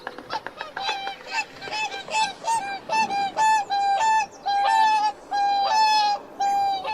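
A swan calls in a series of nasal, honking notes, steady and repeated, close and fairly loud.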